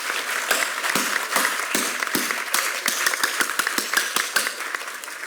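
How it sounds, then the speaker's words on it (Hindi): Many hands clap together in quick, uneven bursts during a group Yoga Day session, a dense stream of sharp claps that stays loud and steady throughout without talk. "मारो मारो, ताली मारना भी अच्छा है"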